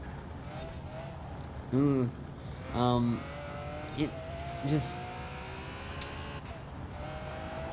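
Special-edition Ferrari FF racing a hillclimb in Forza Horizon 4, its engine droning steadily throughout at moderate level while someone talks over it with a few short exclamations.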